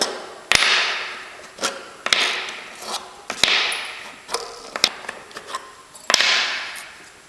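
Metal nails pulled one by one from a jewellery-making jig for a necklace component, each a sharp close click or snap followed by a short metallic scrape, spaced about a second apart.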